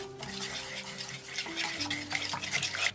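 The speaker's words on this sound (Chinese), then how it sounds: "充分的搅拌均匀" A spoon swirls through a mixture of milk, starch and white sugar in a cooking pot, giving soft, steady scraping and liquid swishing with faint tonal hum in the background.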